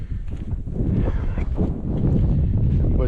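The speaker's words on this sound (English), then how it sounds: "I don't know about this wind," Gusty wind buffeting a microphone outdoors at a coyote hunting spot by a pile of bean chaff, a continuous rough rumble with a voice talking over it.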